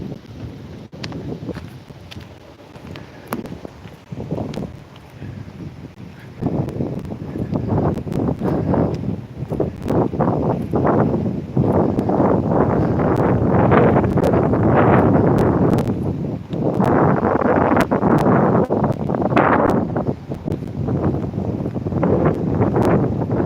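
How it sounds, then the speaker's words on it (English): Wind blows steadily outdoors on a cold day, a broad rushing roar buffeting the microphone that swells louder partway through, with scattered rustling and knocking bits mixed in. "It's cold out here. This wind blowing."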